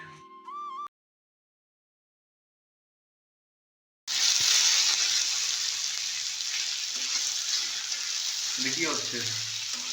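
Onions fry in a pan with a loud, steady sizzle that starts suddenly after a short musical chime and a stretch of silence, and a voice is faintly heard toward the end.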